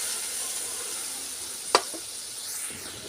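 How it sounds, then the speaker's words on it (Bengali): Mustard-poppy fish curry gravy simmering in a pan, a steady soft hiss of bubbling liquid with one brief sharper pop partway through, heard alone with no talk. "ঝোলটা ফুটে উঠেছে।"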